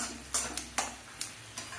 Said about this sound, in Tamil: இது எல்லாத்தையும் ஒரு 3 நிமிஷத்துக்கு நல்லா வறுக்கணும்.